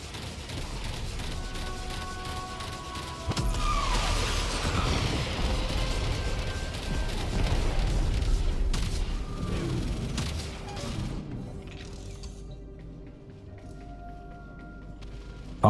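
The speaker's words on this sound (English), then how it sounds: "Cruise ship reactor has detonated." A cruise ship reactor detonates in Warframe with a prolonged rumbling explosion and crashing debris layered over dense game effects, then fades to quieter tones.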